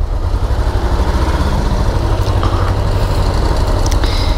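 Honda CBR400R motorcycle engine idling steadily before a ride in Japan, a continuous loud low rumble with faint higher clicks and no voices.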